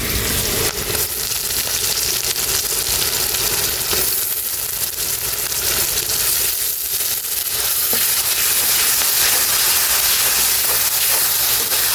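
Fried onion sizzling in a pan with ginger garlic paste, a steady loud hiss and crackle throughout with no talking.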